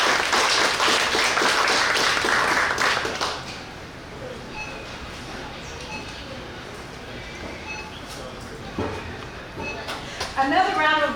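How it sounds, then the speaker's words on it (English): An audience applauds a reading by author Crystal Wilkinson, a crowded burst of clapping that dies away after a few seconds, leaving quiet room sound and a voice speaking. "Another round of applause for Crystal."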